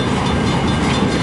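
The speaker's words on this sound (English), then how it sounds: "Saturday night train from Richmond" A CN M384 freight train of tank and flat cars rolls past close by in Port Huron, a loud, dense rumble of wheels and cars with no voices over it.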